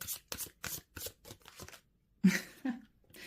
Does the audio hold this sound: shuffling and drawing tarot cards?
yes